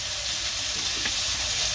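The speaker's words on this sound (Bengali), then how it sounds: "ওই যে পটল ভাজি" Pointed gourd (potol) frying in a pan, a steady, close, bright sizzle with a faint stirring scrape partway through, continuous and free of talk.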